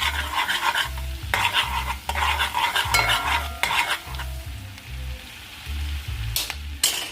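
A spoon stirs chopped thyme into garlic and butter in a sizzling pan for a Jamaican creamy curry shrimp pasta, with steady rhythmic scraping strokes over a soft frying hiss, close and without talk.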